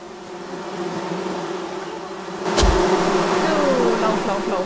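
Bees swarm around a bee nest in the forest game Among Trees, a steady, close buzzing drone that swells a little louder halfway through, with no talking.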